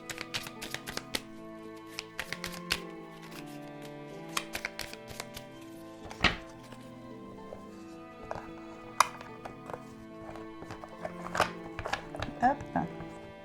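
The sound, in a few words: shuffling oracle cards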